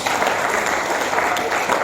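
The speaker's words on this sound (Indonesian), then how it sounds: "Tepuk tangan buat Tuhan Yesus." A steady wash of clapping from a church congregation fills the whole stretch, dense and even without pauses.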